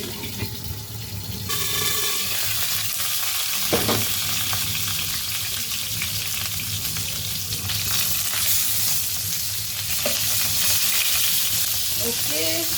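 Bitter gourds stuffed with mutton keema fry in a small amount of oil, giving a loud, steady sizzle and crackle that runs throughout, with a brief clatter partway through.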